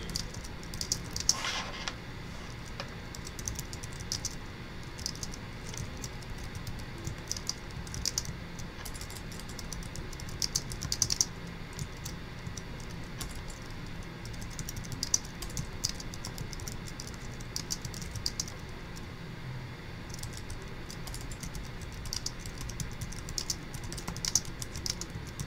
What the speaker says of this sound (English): Otherwise, I'm going to type this in.